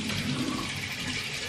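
Running lukewarm water rinses a face at a sink, a close, continuous splashing rush with irregular surges as hands move through the stream.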